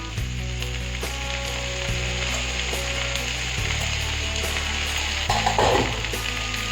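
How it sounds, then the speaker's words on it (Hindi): Food frying in hot oil at high temperature, a loud continuous sizzle with steady crackle close by, a few stirring clinks and a brief burst of hissing near the end. "1 मिनट तक मैं इसे हाई टेम्परेचर पे फ्राई करूँगी।"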